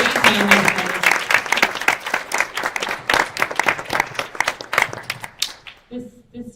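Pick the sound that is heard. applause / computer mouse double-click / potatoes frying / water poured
applause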